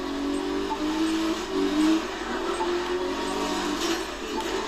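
Aston Martin Vanquish engine in the racing game The Crew 2, a steady mid-pitched drone with slight rises in revs, held at an even level throughout with no voices.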